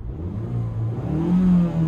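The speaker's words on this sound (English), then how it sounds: "you can really hear that exhaust note" A 2022 Mazda CX-5 Turbo engine revs with the windows partly open, a loud low exhaust drone that rises and holds steady, heard from inside the cabin.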